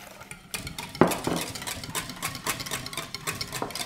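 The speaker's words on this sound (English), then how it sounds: "Here's the milk. I'm gonna beat that in." A whisk or spoon beating milk into buckwheat crepe batter in a bowl, with a run of quick clinks and scrapes against the bowl, close and moderately loud.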